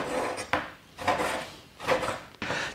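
Raw beef is chopped into small, even chunks on a board, with several sharp, close strikes of the knife. Between the cuts come rasping, rubbing sounds as the blade drags through the meat.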